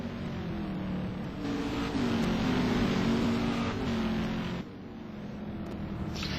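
Touring race cars circulating and pitting during an STC touring car race in Bahrain: a loud, steady engine drone with shifting pitch as cars pass, with no voices.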